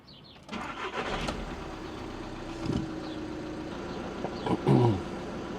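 A Volkswagen car with a diesel particulate filter, just cleaned with a spray-can DPF cleaner, cranks and starts, then settles into a steady close idle. A brief rev swell comes near the end, with no talking.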